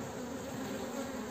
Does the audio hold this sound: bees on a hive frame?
yes